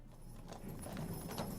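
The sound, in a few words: galloping horses approaching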